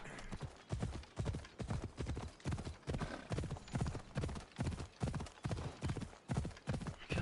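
Steady rhythmic hoofbeats of a horse galloping in the video game Assassin's Creed Odyssey, loud and close, pounding evenly throughout with no pause.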